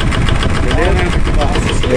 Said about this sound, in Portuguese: Olha a marcha lenta.